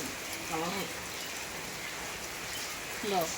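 Steady heavy rain hisses across the whole stretch, a dense wash of drops with brief voices rising faintly over it.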